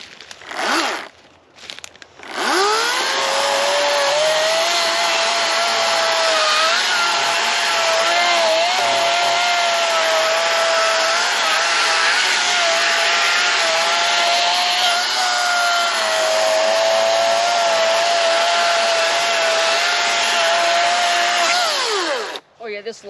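A chainsaw needing sharpening cuts into a very large log, a loud sustained high whine that starts after a short rev, runs unbroken for about twenty seconds, then drops off at the end.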